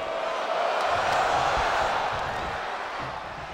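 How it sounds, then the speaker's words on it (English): A large wrestling crowd roars and cheers steadily, a dense wash of voices that swells slightly before easing off. "Listen to this crowd"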